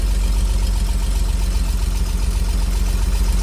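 Engine of a 1950s Bedford truck running just after a brake repair: a steady, loud, low idle with an even throbbing rumble, close by and without any talking.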